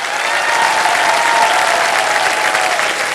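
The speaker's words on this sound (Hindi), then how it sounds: "तालियां बजती रहे मीनल के लिए।" A studio audience on a televised quiz show claps continuously, a loud, even sheet of applause holding for several seconds without speech.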